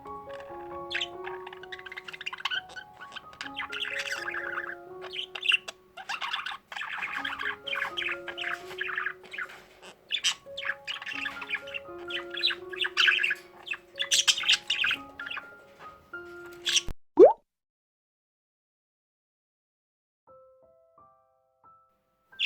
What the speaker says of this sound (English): This amorous whirling chatter is often accompanied by head bobbing movements and erect head feathers.